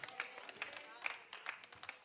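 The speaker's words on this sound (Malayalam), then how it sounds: "കൈയടിച്ച് കർത്താവിനെ സ്തുതിച്ചേ, യേശുവേന്ന് വിളിച്ചേ." A congregation at a Christian prayer meeting claps hands in praise, with about five evenly spaced claps in a steady rhythm, quiet and slightly distant, mixed with voices.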